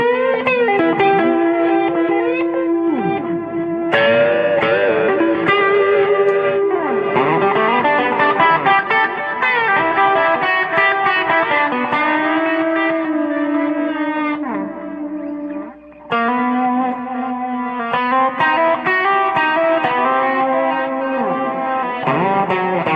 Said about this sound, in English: Let me add some distortion and just see what happens here.